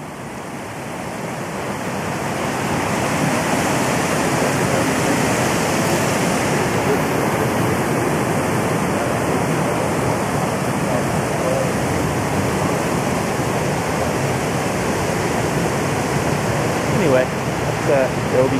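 Doby Creek flows steadily and loudly throughout, a constant broad roar of rushing water with no pauses.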